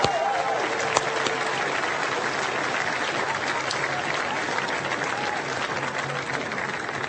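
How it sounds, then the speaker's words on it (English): Sustained crowd applause at the 2018 Special Olympics Virginia opening ceremony, dense and even throughout, with a faint voice near the start, filling a large space. "How about one more round of applause for our performers there?"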